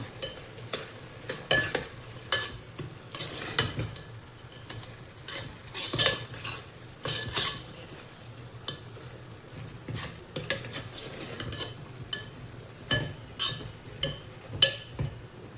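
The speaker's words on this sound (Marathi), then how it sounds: "थोडा केसर टाकते मी। मिक्स करून घेऊया।" Carrot halwa with saffron being stirred in a pan, a spoon scraping and clinking against the metal in irregular strokes over a soft sizzle, close and moderately loud, with no talking.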